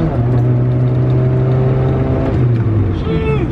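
A manual-transmission Honda Civic pulls hard under acceleration, a loud close engine drone with a steady low tone that dips briefly around a gear change, then climbs again near the end.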